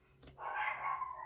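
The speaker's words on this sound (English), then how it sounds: "Oh, they're unmistakable now." A dog barks once nearby, a short sharp bark followed by a drawn-out yelping whine, with no talking.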